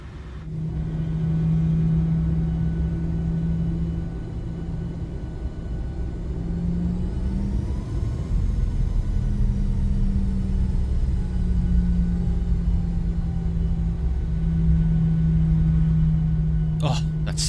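Airliner taxiing out of the ramp in Microsoft Flight Simulator, with a steady, loud low engine rumble and hum that swells slightly midway and then holds, while a person talks over it.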